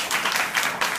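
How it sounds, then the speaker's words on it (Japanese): An audience at a school gathering in Japan claps for a guest, producing a brief, fairly loud burst of dense applause that swells twice within about a second. "拍手お願いします。"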